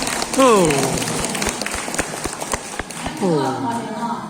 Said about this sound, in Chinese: 请我们的这干部们掌声感谢他们